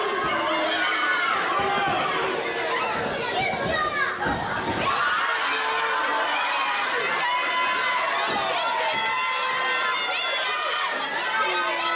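Crowd at a live wrestling event voicing displeasure with a wrestler, a loud continuous mass of shouting, jeering and chatter with higher children's voices prominent throughout.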